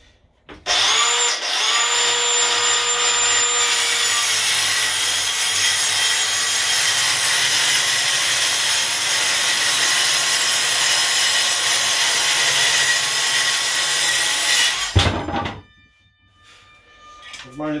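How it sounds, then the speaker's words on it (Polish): Battery-powered Lidl saw cutting through wood, a loud continuous buzzing cut that runs steadily for about fourteen seconds before stopping abruptly, followed by quiet. "Piła zasuwa, mówię wam, kurde, normalnie daje radę."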